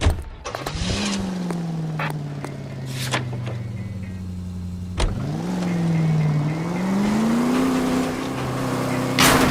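A car driving in L.A. Noire, its engine droning steadily with rising and falling pitch as it accelerates and shifts, close and continuous without speech.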